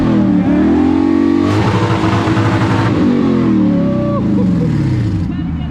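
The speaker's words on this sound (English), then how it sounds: "People are just not getting here, and they are revving." Cars revving hard at an outdoor car meet park-and-chill, a loud, close engine roaring and climbing in pitch, dropping back, then rising again across the whole stretch, with a voice briefly heard over it.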